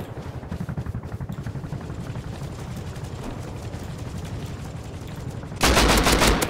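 Rapid video game gunfire rattles steadily throughout as automatic bursts, loud and close, swelling into a heavier, denser volley near the end, with no talk over it.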